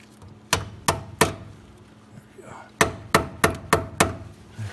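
A hammer taps a clamp down to hold a brake hose fitting during a Foxbody Mustang rear disc brake upgrade, giving sharp metallic strikes: three quick hits, a pause, then a faster run of about six blows, close and fairly loud.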